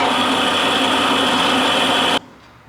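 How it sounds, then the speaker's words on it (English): Power drill boring a hole in stainless steel with a cobalt bit on a sailboat, a loud, steady high-pitched whine and grinding held for about two seconds before stopping abruptly, close and with no talk. "So let's drill this hole."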